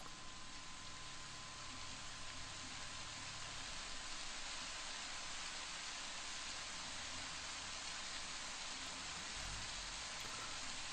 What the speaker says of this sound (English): The rain keeps pouring down.